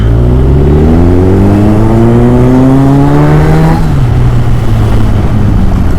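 A motorbike engine revs loudly up close in a road traffic jam during a Spiti trip. Its pitch climbs steadily, drops, then holds at a steady drone.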